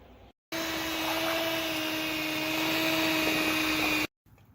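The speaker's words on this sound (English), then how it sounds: "So using electric mixer, we just shred the beef" An electric hand mixer shredding slow-cooked beef, a loud steady motor whine with a constant pitched hum, starting abruptly and cutting off after about three and a half seconds.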